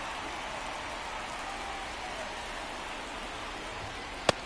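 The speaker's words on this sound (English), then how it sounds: "This rain is not letting up." Rain falls steadily during a baseball game in MLB 24, a constant broadband hiss with no break, joined by a single sharp click near the end and no talk.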